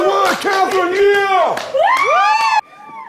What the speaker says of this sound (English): I hear some screaming in the room.